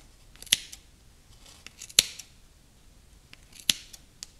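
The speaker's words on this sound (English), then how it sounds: "And then just cut all the loops." Scissors snip through loops of yarn for a crochet pom-pom, three distinct close crisp cuts spaced roughly a second and a half apart, with faint rustling between them.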